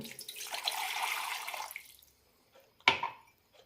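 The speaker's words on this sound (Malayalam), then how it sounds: "മിക്സി ജാറിലേക്ക് ഒരു കപ്പ് വെള്ളം ഒഴിക്കാം" A cup of water pours steadily into a mixer-grinder jar for under two seconds, then after a short quiet pause comes a single sharp clunk with a brief rattle, close and fairly soft.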